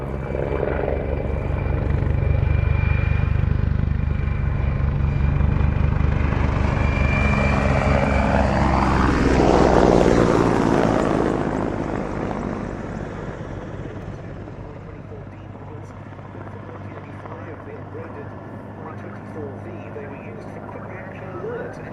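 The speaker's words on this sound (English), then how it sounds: "Here it is, getting back into the air for the 221st Helicopter Squadron of the Czech Air For Force." Czech Air Force Mil Mi-24 Hind helicopter flying a display for the 221st Helicopter Squadron, rotor and turbine roar swelling loud and sweeping past, then fading into the distance, with a commentator talking over it.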